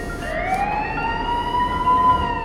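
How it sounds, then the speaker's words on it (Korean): A siren wails through a subway, its pitch climbing in one long continuous sweep over a low steady rumble of train noise. "갑자기 지하철을 뒤덮은 사이렌 소리?"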